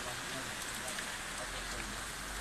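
Steady rain pouring down outdoors after a hot day, a dense, even hiss of drops on surfaces that holds constant throughout without pause.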